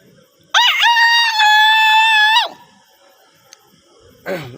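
A voice imitates a rooster crowing: one loud, strained, drawn-out cock-a-doodle-doo held for about two seconds, followed by quiet and a short vocal start at the end.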